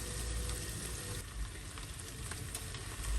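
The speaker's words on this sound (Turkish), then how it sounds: "Kendi suyunu çekinceye dek tuzu da karabiberi de güzelce bir kavuruyorum." Minced meat fries with salt and black pepper in a pan, a quiet, steady sizzling crackle close by that runs unbroken, with faint stirring.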